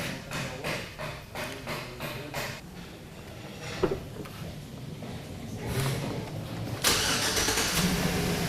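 A car engine cranks in a rapid even rhythm for a few seconds, then fires and settles into a steady idle, heard up close during a misfire diagnosis setup.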